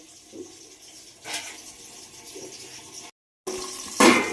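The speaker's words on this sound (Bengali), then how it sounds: "এবার শিলনোড়াটা ধুয়ে নেব, নিয়ে পুরো পরিষ্কার করে নেব জায়গাটা।" Water splashes and runs as a stone grinding slab (shil-nora) is washed, an uneven pouring and swishing with brief surges and a short pause, close by and without talk.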